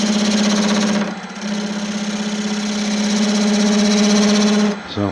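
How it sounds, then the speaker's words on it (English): A wood lathe turns a Malaysian acacia vase, and a gouge bounces on a hard knot, making a loud, steady humming drone with a rapid rhythmic chatter that dips briefly and then cuts off near the end. "There's like a really hard piece, because it's making the gouge bounce every single time"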